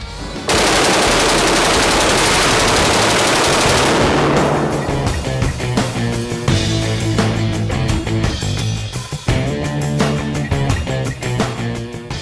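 Guns firing on an indoor shooting range at Battlefield Vegas in Las Vegas, where a long, loud, unbroken stream of automatic fire is followed by rapid repeated bursts echoing in the enclosed space.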